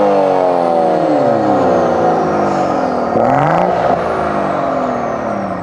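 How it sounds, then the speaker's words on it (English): A manual BMW M140i with a stage 2 plus tuned B58 straight-six, standard cat and upgraded mid-pipe, revs hard through rising gears, its exhaust note climbing, dropping at a shift and climbing again, loud and close. "It's still got the standard cat-in, although it does have an upgraded mid-pipe, which means it sounds something like this."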